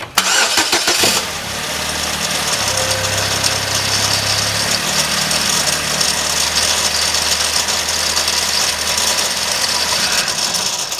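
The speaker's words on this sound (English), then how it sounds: "Now when I start the car" A car with a failed turbo and an oil feed line rigged into a bag cranks and fires up, with a brief starter whir before settling into a steady, loud idle that continues to the end.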